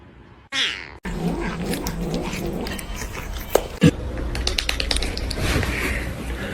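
Domestic cats meowing in short, repeated calls at close range, with a couple of sharper bursts midway amid household noise and a few clicking taps.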